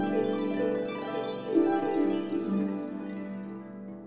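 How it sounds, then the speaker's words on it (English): Orchestral harp glissando from a sample library, a cascade of plucked strings sweeping across the range and leaving a ringing wash that slowly fades, heard alone without talk. "A harp glissando."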